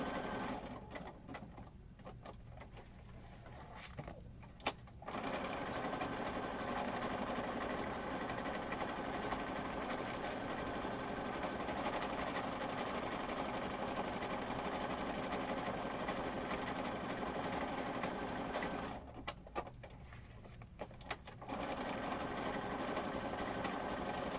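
Sewing machine running steadily for long stretches, a continuous mechanical whir that drops out twice for a few seconds before picking back up.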